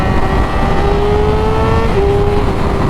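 A motorcycle cruising at steady speed on a highway, a loud continuous engine drone with a slowly shifting tone and constant wind rush, no talking.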